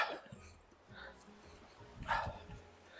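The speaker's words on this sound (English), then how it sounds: "The doggy is outside." A dog barking outside, a few faint, distant barks and yips spaced out, with some muffled voice in the room.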